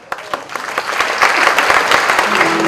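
An audience at a gathering claps, starting with a few scattered claps and building into dense, loud, sustained applause nearby.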